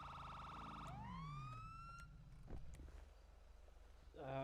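A police siren yelps with rapid warbling, then sweeps upward into a long wail before breaking off, with another burst of warbling at the end.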